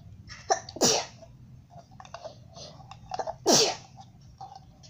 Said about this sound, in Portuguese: não ligue que se eu tô espirrando, porque eu tô meio que gripada